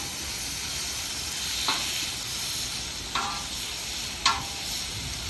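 Pre-cooked onions and bacon sizzle steadily in a pan outdoors, a constant hiss with a few sharp clicks or taps from stirring.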